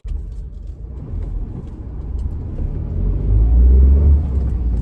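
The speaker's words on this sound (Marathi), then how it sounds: "ब्रेकिंग करतो मी 60च्या स्पीडला" A Tata Altroz XZ CNG hatchback braking hard from 60 km/h, heard from inside the cabin as a steady low road and tyre rumble that swells louder toward the end, with no talk.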